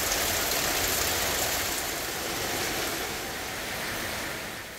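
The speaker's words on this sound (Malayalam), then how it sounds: "മഴ നല്ല തകർത്ത് പെയ്യുന്നുണ്ട് കേട്ടോ, നല്ല അടിപൊളി മഴ" Heavy rain pouring outside a house, a dense steady wash of falling water that swells slightly and then eases, heard from indoors without voices.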